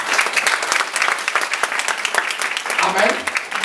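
A church congregation clapping and cheering loudly for God during a sermon, with bursts of applause and voices calling out over it, near and lively.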